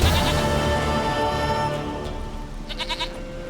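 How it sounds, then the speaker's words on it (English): A goat in The Witcher 3 bleats with a wavering, nasal cry near the start, then gives shorter quavering bleats toward the end over faint background music. "Goat of mine, dearest, sweetest goat."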